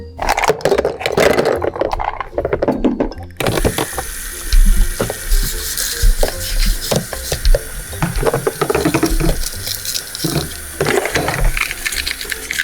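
Water runs steadily from a sink tap while fruit is rinsed for a pie, with scraping and clattering handling noises over the continuous flow; the setting is an animated children's cooking game.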